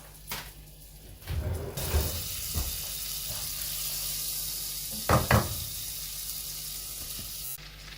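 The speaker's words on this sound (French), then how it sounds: "nous allons mettre le beurre à fondre à feu moyen" Butter melting in a pan over medium heat while making Serrano ham croquettes, a steady close sizzle with a few clinks and knocks of utensils, no talking.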